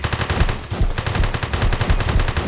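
Rapid gunfire rattles loud and close in One-armed Robber during a jewellery store robbery, a fast run of repeated shots firing in quick bursts with only brief gaps.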